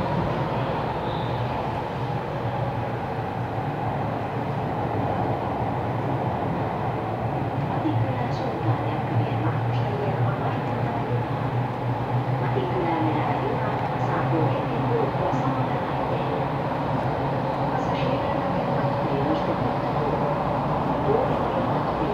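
An M2 metro train heading to Tapiola runs with a steady rumble and hum throughout, a continuous loud interior drone with faint rattles and squeaks.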